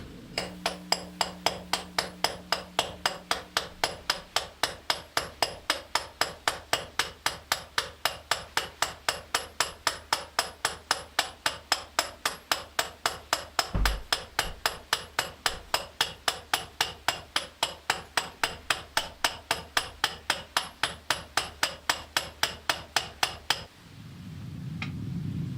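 A drill in the horror caving game Ted the Caver digs through rock, making a fast, regular train of sharp mechanical knocks that continues steadily for over twenty seconds before stopping, with a low hum underneath.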